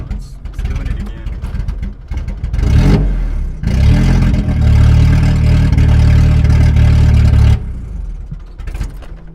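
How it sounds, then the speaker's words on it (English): A Nissan 240SX engine runs roughly with a misfire, loud and close, its uneven chugging idle rising into sustained, stumbling revs before settling again, with a voice talking over parts of it. "You can clearly tell it's a misfire."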